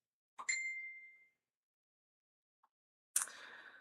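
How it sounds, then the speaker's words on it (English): A phone notification chimes with a bright ringing tone that fades over about a second, then goes quiet before a second, harsher burst of sound near the end. "That was just my phone."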